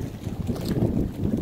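Wind gusts steadily across a small fishing boat at sea, a continuous rough rumble of air buffeting the microphone with faint water sounds beneath, no voices.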